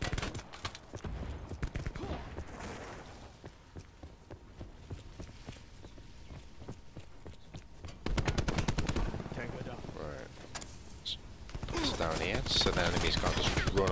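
Rapid bursts of MX9 submachine gun fire in Call of Duty: Black Ops multiplayer, sharp repeated cracks over a busy game soundscape, growing louder and denser in the later seconds.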